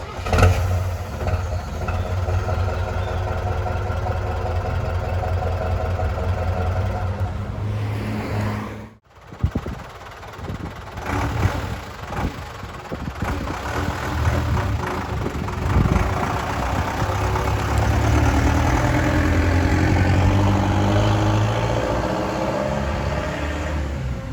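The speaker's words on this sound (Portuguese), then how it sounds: "o MWM Turbo, esses motores aí que fizeram parte da vida de milhares de brasileiros" A Ford F1000 pickup from the 1980s with an MWM Turbo diesel engine runs close by in a steady, rough rumble. There is a brief break near the middle, and then the engine keeps going at a slightly fuller roar.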